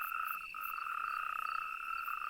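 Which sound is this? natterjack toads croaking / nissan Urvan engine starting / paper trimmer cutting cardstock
natterjack toads croaking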